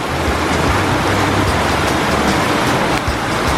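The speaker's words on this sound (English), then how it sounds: "It just started raining" Heavy rain pours down and water streams off a building, a dense, steady, loud wash with no break and no talk.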